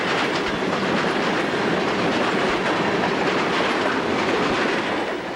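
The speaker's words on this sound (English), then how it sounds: "The train is moving west on track 3." A westbound freight train of covered coil steel cars rolls past on the Pennsylvania Railroad's Broadway line, a loud, close, continuous rumble with rhythmic clickety-clack of wheels over rail joints.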